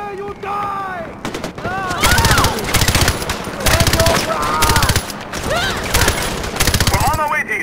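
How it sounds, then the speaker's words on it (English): Sustained machine gun fire in the video game Far Cry 4, loud rapid bursts repeating over several seconds, mixed with explosions, game music and shouted voices. "I'm on the machine gun!"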